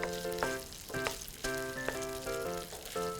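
Spinach and ham sautéing in butter in a pan, a close hissing sizzle under a steady tonal hum with short stirring knocks, no one speaking.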